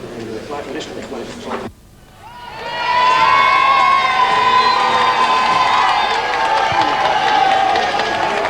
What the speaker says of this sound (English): The flag-waving crowds cheered again as the Queen left the building